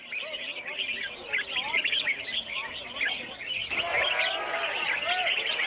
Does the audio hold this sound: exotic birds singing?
yes